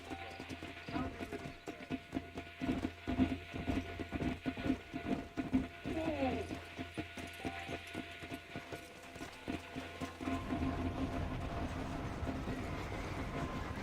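In the Red Dead Redemption video game, horse hooves clip-clop in a rapid rhythmic beat beside a rumbling train with clanking rail noise and a few squeals, the hoofbeats giving way to a steady roll near the end.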